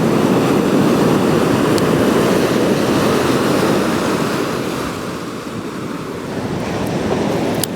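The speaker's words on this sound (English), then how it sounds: "The sounds of the sea, the Mediterranean crashing on the shores." Mediterranean sea waves crash onto the shore of the Spanish coast at Marina d'Or in a loud, continuous roar of surf that barely eases, with no voices.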